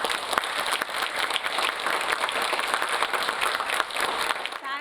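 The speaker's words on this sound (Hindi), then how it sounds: "स्वागत कीजिए जोरदार तालियों से तनु मैम का।" A large audience at a talk claps continuously and loudly in dense, sustained applause welcoming a speaker.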